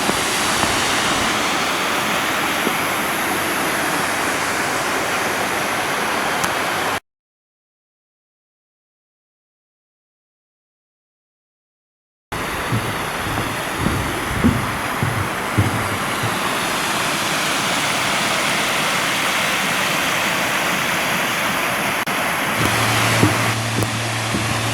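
Steady rushing water of the Katoomba Cascades in the Blue Mountains, NSW, a broad, continuous wash of falling water heard close by with wind on the microphone and a brief gap of silence partway through.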